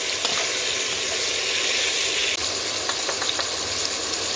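Spice paste frying in hot oil in a pan, a loud, steady, close hiss of sizzling that runs the whole time, with a few faint scrapes of stirring near the end.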